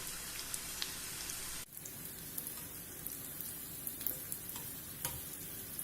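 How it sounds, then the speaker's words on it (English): Baby corn croquettes deep frying in medium hot oil give a steady, dense sizzle and crackle like rain, with a brief cut partway through before the bubbling continues evenly with scattered pops. "Deep fry the croquette in medium hot oil."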